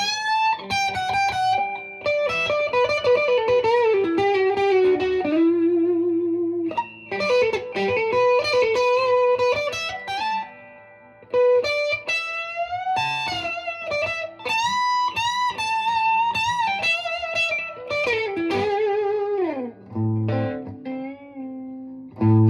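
An electric guitar is played through a Bad Cat Cub 40R USA Players Edition amp, with a run of distorted melodic phrases, sustained notes and chords, loud and up close with no talking.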